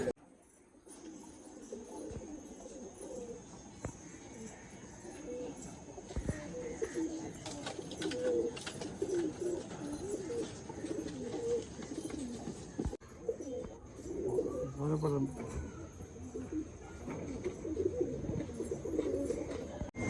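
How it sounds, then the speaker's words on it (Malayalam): Racing pigeons coo softly and repeatedly nearby in a loft, low throaty calls layered over one another against a quiet indoor background. "ഒരു മെയിൻ ബ്രീഡിംഗ് പ്രാവാണ്"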